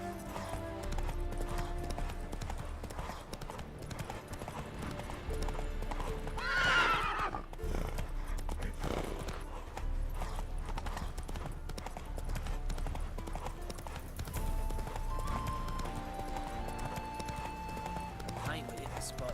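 Roach the horse in Witcher 3 galloping with steady rhythmic hoofbeats while letting out a loud neigh midway, with someone talking over the game sounds.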